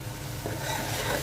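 Green chilies stirred into pangas fish simmering in a pan, a soft, quiet rubbing and scraping with a faint sizzle underneath, brief and low in level.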